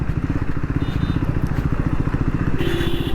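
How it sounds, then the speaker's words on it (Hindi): A Triumph Scrambler 400X motorcycle rides in second gear at high revs, its engine a loud, rapid, steady pulsing thrum with road rumble and a brief rising tone near the end. "यहाँ पे सेकंड गियर में बाइक चल रही है और मैं रेस नहीं दे रहा हूँ अपने आप ही हाई आरपीएम।"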